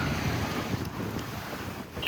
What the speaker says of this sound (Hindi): ये रहा समंदर।